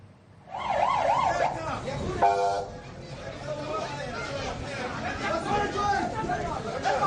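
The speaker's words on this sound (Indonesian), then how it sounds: "Ambulans sibuk membawa korban ke rumah sakit" An ambulance siren wailing loudly nearby as casualties of an air strike arrive at Nasser Hospital in Khan Yunis, southern Gaza, its rising and falling tone over a crowd's shouting and chatter, with a brief horn blast partway through.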